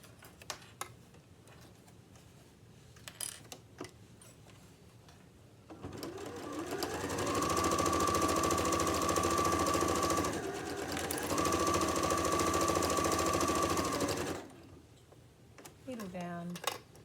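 A sewing machine stitches a tote bag in a long loud whirring run that pauses briefly midway, then resumes before stopping, with a few quieter clicks and handling sounds at the start and end.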